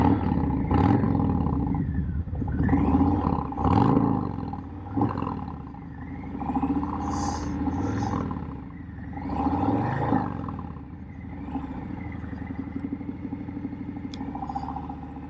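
Harley-Davidson Fat Boy 114 cruiser motorcycle revving hard several times, its deep loud rumbling engine rising and falling in repeated surges before settling into a steadier drone as it rides off.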